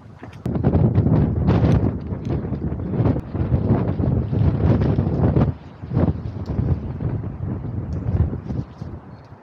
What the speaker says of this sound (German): hoffen, dass der Wind gleich nicht zu stark wird